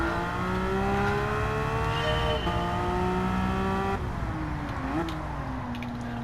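A Porsche 911 race car in Gran Turismo 7 drives with a loud, steady engine drone, shifting pitch as it accelerates and changes gear, with a brief tyre squeal near the end and no talking.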